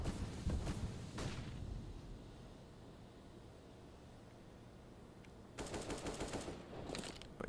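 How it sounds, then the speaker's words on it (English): Automatic rifle fire in a Counter-Strike esports match, a sustained burst at first, then a lull of faint ambience before another rapid volley of shots near the end. "A barrage of bullets out of Nico."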